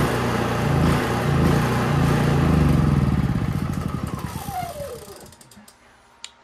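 A Honda EU3000is inverter generator runs on the last of its fuel, a loud buzzing drone that sputters, pulses and winds down in falling pitch until the engine dies, followed by a faint click.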